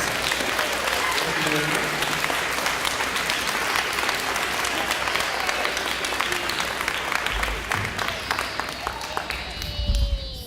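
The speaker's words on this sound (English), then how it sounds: "let's give Miss Swan's class a round of applause" An audience claps steadily for a school class at a charter school gathering, a dense, loud, sustained round of applause with a little crowd noise and a voice near the end.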